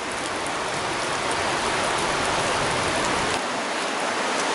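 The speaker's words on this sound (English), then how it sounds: "So the rain has let up a little bit." Rain falls steadily in the Grand Canyon, a dense, even hiss of drops on surfaces that stays loud and constant throughout, with no voices.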